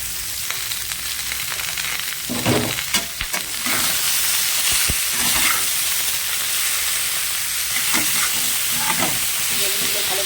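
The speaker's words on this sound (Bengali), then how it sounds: "বেগুনগুলো ভালো করে ভাজা হতে থাক।" Eggplant pieces fry in a pan, making a loud, steady, close sizzle with occasional stirring scrapes and knocks and no voices.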